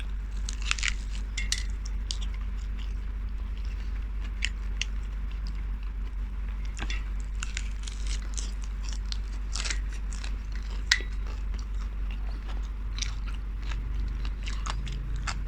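Crunchy biting and chewing of fried field rat comes through close and fairly quiet, with irregular crisp crackles scattered throughout against a low background hum.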